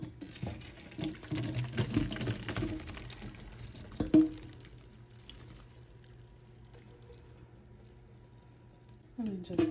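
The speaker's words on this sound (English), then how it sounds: "So my pasta is done. And all I do is strain it." Cooked pasta water pours through a strainer, a splashing rush for a few seconds that fades to a quiet trickle, with a person speaking over it.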